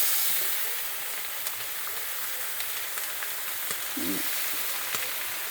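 Store-bought bacon frying in a pan at breakfast, a continuous hissing sizzle with scattered pops and crackles, close by and without talk.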